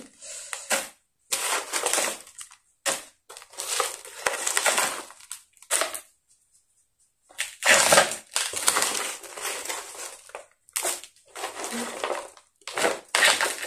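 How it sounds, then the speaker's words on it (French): Handfuls of pine bark pieces crunch and rattle as they are packed around the roots of a Hoya imbricata on a small plant wall, in close repeated bursts with short pauses between. "Là, j'ai mis énormément d'écorce de pin"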